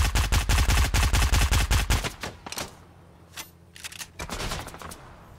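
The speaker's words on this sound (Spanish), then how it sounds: "ya se empiezan a escuchar los disparos" Rapid automatic gunfire in the Fortnite video game rattles loud and close for two seconds, then gives way to scattered, fainter single shots and bursts.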